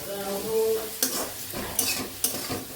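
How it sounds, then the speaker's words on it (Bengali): Potatoes and fish frying in a pan make a close, loud sizzle, broken by several sharp scrapes of a stirring utensil against the pan. "এদিকে আলু ভাজা ডাল ভাত আলু ভাজা আর এদিকে মাছ ভাজা"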